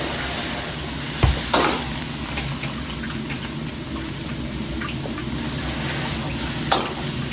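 Ginger and red onion fry in a pan for a Cantonese-style dish, making a constant close hiss with a few sharp knocks and clatters from the cookware.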